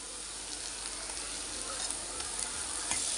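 Onions and ginger-garlic paste fry in a pan with a steady, fairly faint sizzling hiss and light stirring scrapes, rising slightly toward the end, with no voices.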